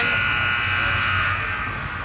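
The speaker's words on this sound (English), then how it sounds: "the buzzer goes off" An end-of-period buzzer sounds at an ice hockey rink during a junior bantam game, a loud, steady electronic drone held without a break for about two seconds.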